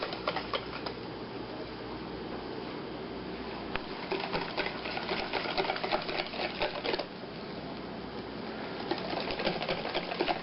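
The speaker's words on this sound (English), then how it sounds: "I'm going to use a whisk just to get this in." A whisk beats measured flour in a bowl for Swedish tea ring dough, giving a steady, continuous scraping and rattling that runs without pause for about ten seconds, close and fairly loud.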